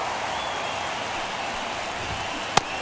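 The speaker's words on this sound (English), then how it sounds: "The crowd really making some noise." Video-game stadium crowd from MLB The Show 24, Red Sox at Angels in Anaheim, making a steady, dense roar of cheering and applause throughout, with one sharp short crack near the end.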